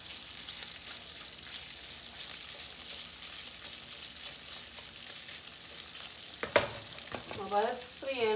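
Onions and hot dogs fry in a pan with a steady close sizzle and crackle, joined near the end by a few clinks and scrapes of stirring.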